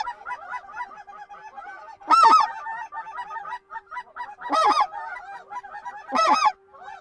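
A small flock of four specklebelly (white-fronted) geese calls in flight, giving rapid, yelping, high-pitched laughs that come in repeated bursts, with louder nearby calls standing out every couple of seconds.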